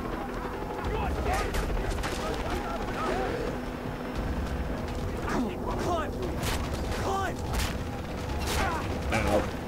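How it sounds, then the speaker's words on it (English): Gunfire rattles in the PC shooter Far Cry 3, with scattered shots and bursts over a steady background din, fairly near and moderately loud, mixed with mechanical clicks. "I'm getting shot out here."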